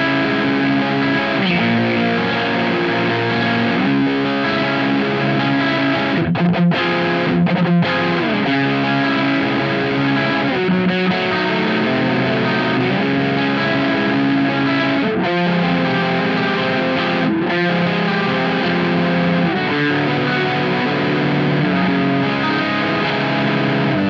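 Electric guitar through a BOSS Mega Distortion pedal with a crunchy, saturated tone, playing chords and riffs continuously and loudly, with brief stops between phrases.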